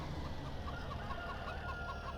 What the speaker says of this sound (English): But those chickens are gonna be really loud.